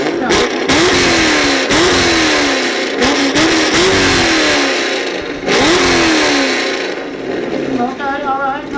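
Chevrolet Camaro exhaust revved hard at a loudest-exhaust competition, with repeated sharp rising blips and roaring bursts close to the microphone, crowd voices mixed in underneath.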